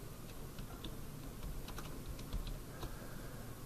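Quick, light typing on a computer keyboard while filling in drawing-list fields in AutoCAD, soft irregular key clicks over a quiet room hum.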